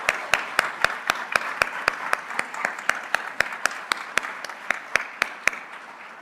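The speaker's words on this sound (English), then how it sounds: "let's give them another round of applause in recognition of their contributions" Audience applause at an employee recognition ceremony at Washburn University: steady, evenly spaced claps over a soft crowd wash, fairly loud and continuous before tapering off at the end.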